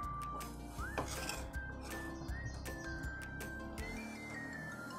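A spoon stirs wet shrimp batter made with gram flour and rice flour in a bowl, giving repeated light clinks and taps against the bowl with soft squelching in between.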